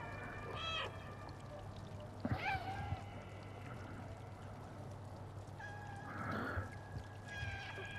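Several short cat meows from the video game Stray, scattered across a quiet backdrop of trickling, pouring water, faint and spaced out.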